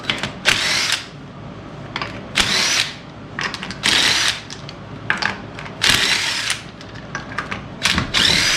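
Power tool whirring in repeated bursts while removing the front wheel of a 2004 Jeep Grand Cherokee, several loud, close spins of about half a second to a second each separated by short pauses.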